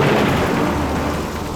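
Thunder rumbles loud and close during a heavy rain storm, a continuous low roar with a sharp onset that slowly fades over its short span.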